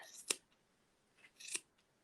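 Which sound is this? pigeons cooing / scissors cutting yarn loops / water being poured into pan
scissors cutting yarn loops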